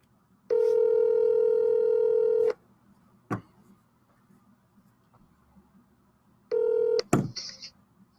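A telephone dialing out on a cold call: two flat electronic tones, a long one and then a short one, separated by quiet, with a few clicks and handling knocks near the end.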